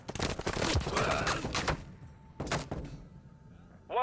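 Gunfire in Call of Duty Modern Warfare II multiplayer, clustered bursts of shots and impacts, moderately loud, separated by brief quiet gaps.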